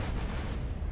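A brief, loud, rumbling explosion blast in the video game GTA San Andreas, filling the whole moment with dense noise and no talk.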